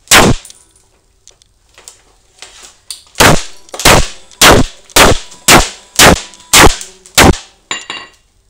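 A Coby CD player's screen is struck over and over, first with a few light taps, then about nine loud, evenly spaced metallic clanging blows, each sharp and close.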